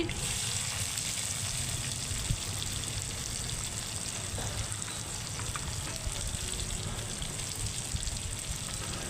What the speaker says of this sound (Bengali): তেল গরম হয়ে গেছে এখন আমি পেঁয়াজগুলো দিয়ে দিচ্ছি